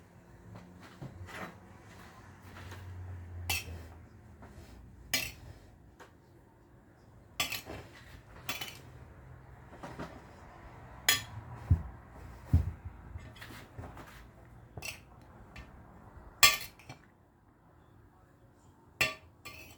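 A spoon stirring sweet couscous with raisins in a pot, scattered metallic clinks and scrapes against the pot at irregular intervals, close up and fairly quiet, with no talk.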